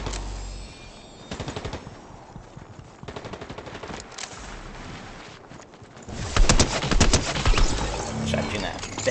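Bursts of rapid automatic gunfire in a Fortnite No Build duos match, several volleys in quick succession with a heavier barrage near the end, while players talk over the shooting.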